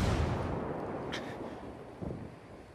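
A grenade explodes in a Ghost Recon 4v4 PvP match, a single broad rumbling blast that opens loud and rolls off over a couple of seconds, with a faint crack partway through.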